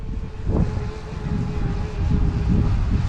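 A steady buzzing drone of a small sub-250g quadcopter's rotors hums overhead at moderate volume, continuous for the whole stretch with a faint whine above a low rumble.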